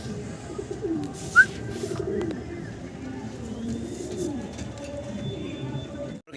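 Pigeons coo softly in low, murmuring repeated calls at a pigeon farm, a steady cluttered layer of many birds nearby with one brief sharper chirp, while someone talks over them.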